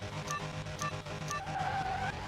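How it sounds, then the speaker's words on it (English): Car revving hard and launching off the line in a Car Mechanic Simulator drag race, released from the handbrake: a loud engine roar with pulsing rev bursts, then a rising whine with tire skid as it pulls away. "Rev it up."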